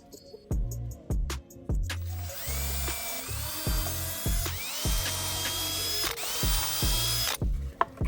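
A power drill boring a screw-hole pattern in 2x4 wood seating planks, with repeated short bursts of whirring and ratcheting clicks and brief pauses between holes, close and fairly loud with no talking.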